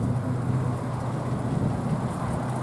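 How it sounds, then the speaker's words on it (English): A Ford Zephyr convertible with a stainless steel exhaust idles smoothly and steadily, a low, even engine hum with no talk. "Ticks over beautifully."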